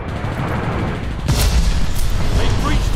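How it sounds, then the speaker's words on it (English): An enemy glide bomb blasts in Call of Duty Warzone, a heavy rumbling explosion rising midway over continuous battlefield gunfire and noise, with game announcer voice lines around it. "Enemy glide bomb incoming."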